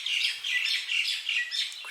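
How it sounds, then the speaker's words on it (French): Birds chirp in a lush natural setting on La Réunion, a dense run of bright, quick tweets repeating in bursts, close and fairly loud, with no talking. "Écoutez, c'est des oiseaux"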